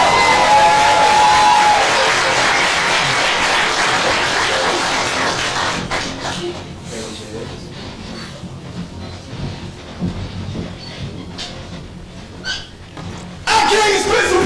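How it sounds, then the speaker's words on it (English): An audience at a poetry open-mic anniversary night claps and cheers loudly for several seconds, the roar fading into scattered chatter and calls before a short loud burst of voices returns at the end. "Clap it up for dedication."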